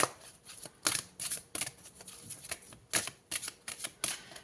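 Tarot cards shuffled by hand in a series of crisp riffling bursts and soft slaps, fairly close and quiet, with short pauses between shuffles and no talk.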